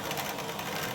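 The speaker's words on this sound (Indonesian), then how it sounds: "Pengeborannya satu persatu menggunakan mesin bor duduk seperti ini." A bench drill press bores through an 18 mm agarwood bead, giving a brief, steady whirring motor drone at moderate level.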